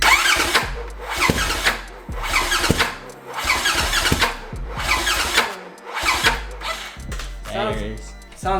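A Polaris RZR Turbo side-by-side engine on a weak battery, cranking over and over in a loud rhythmic churn with short pauses between, catching briefly near the end while people talk.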